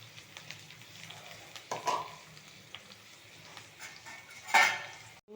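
Ridge gourd pieces go into a pan of frying green chillies, with a faint soft sizzle and occasional stirring scrapes and sharper utensil clinks against the pan.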